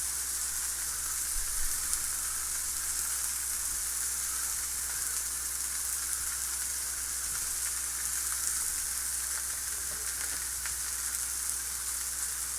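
Peppers frying in a fry pan give a continuous, even sizzle and hiss at moderate level, steady throughout with no talking.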